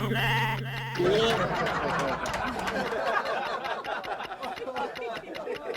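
A person imitates a goat's bleat, a wavering nasal cry near the start, during a comedic quiz round in a Hindi TV show, followed by bursts of audience laughter and chatter.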